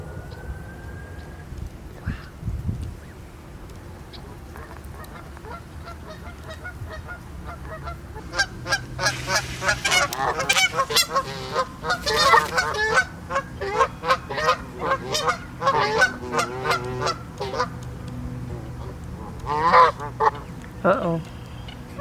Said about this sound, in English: Aw, little baby geese.